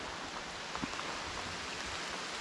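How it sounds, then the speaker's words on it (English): Steady, hissing rain falls continuously in a dense, even wash, moderately faint, with an occasional louder drop or patter. "we're pretty much having breakfast in a downpour now"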